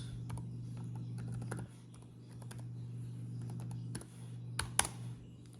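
A password is typed on a laptop keyboard in quick, light clicking bursts at close range over a low steady hum, with a short pause and a couple of sharper taps near the end.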